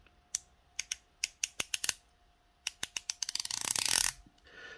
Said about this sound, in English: I'll be quiet so you can hear the bezel.